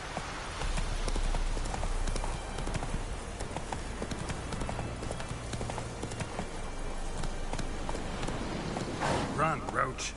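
Roach the horse's hooves clip-clop steadily across the ground in The Witcher 3: Wild Hunt, rhythmic and fairly close under a continuous game soundscape, with a person talking over it at times.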